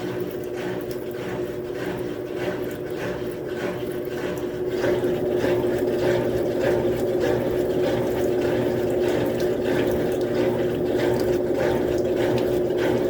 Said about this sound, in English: Man, that thing's spinning fast. And there's still some water coming out of there.